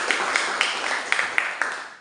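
Students in a classroom clap their hands for several seconds, with scattered individual claps rising above a soft wash of applause.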